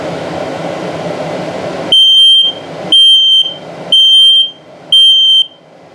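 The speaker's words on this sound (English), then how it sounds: "then it'll beep slowly to test for the low battery" A loud, high electronic beep from an RV gas and CO detector sounds four times at a slow, steady pace, each tone about half a second long, after a stretch of low background hum.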